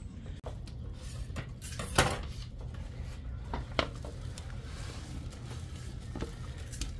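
Potatoes being peeled and cut for a crockpot beefsteak, with soft scraping and clinking knife-and-dish sounds, a couple of sharper taps, over a steady low kitchen background.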